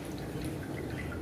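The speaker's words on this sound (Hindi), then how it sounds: "ऐसे हल्के हाथों से निचोड़ने से भी पूरा पानी बाहर आ रहा है" Water dripping and trickling out of a sanitary napkin pad as it is squeezed by hand, a steady close, soft wet patter of drops without any voices.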